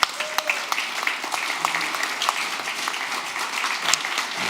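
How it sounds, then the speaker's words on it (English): A room of conference attendees at a live developer event claps for a group of people, crisp individual claps standing out over a steady moderate patter that continues throughout. "Give them all a round of applause"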